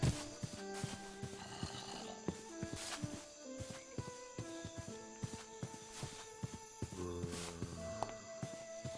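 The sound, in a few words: pigs grunting in video game Terrafirmacraft (Minecraft mod)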